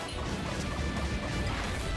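A guardian's shield shatters in the video game Souldiers, a loud dense crash with heavy low rumble and bright debris lasting the full two seconds.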